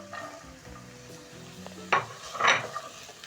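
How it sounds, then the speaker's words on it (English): Onion and carrots going into a hot pan for vegetable stir-fry rice, with a soft frying sizzle under light stirring and two brief louder bursts of spatula or utensil clatter partway through. "Once the pan is hot, I'm going to be adding in my onion, together with my carrots."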